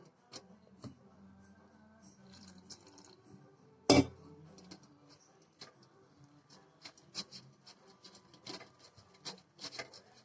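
Gulab jamun mix batter is stirred in a bowl, giving soft rubbing scrapes and light clinks of a spoon against the sides, with one sharper knock partway through, quiet and close.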